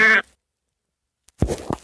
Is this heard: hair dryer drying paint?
no